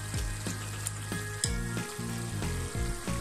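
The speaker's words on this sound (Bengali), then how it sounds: "মাছটা আমি ভেজে রেখেছিলাম মাছটা দিয়ে দিলাম।" Fried chewa fish goes into a pan with yardlong beans, making a constant close sizzle broken by several knocks and stirring bumps at irregular intervals, with no voices.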